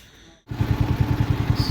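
A motorcycle engine fires up at night before a long highway ride from Chennai to Madurai, settling at once into a loud, steady, rhythmic idle thump after a brief quiet moment.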